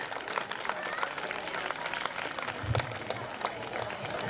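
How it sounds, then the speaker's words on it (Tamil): Audience clapping at a school annual day for a nursery and primary school, a dense, steady spread of hands across the hall with crowd murmur and a voice underneath. "கைத்தட்டி உங்களுக்கு நீங்களே கைத்தட்டி கொள்ளுங்கள்"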